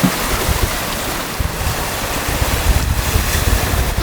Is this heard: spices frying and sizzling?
no